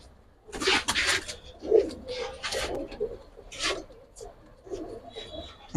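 Silver Giribaz pigeons coo close by in uneven bursts, with soft rustling and scraping between the calls.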